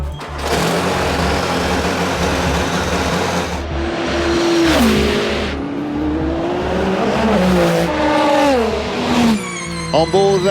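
Onboard engine of the Kessel Racing Ferrari race car at the 24 Hours of Le Mans 2023, a loud continuous high-revving roar that rises and drops through gear shifts, with commentary talk running underneath.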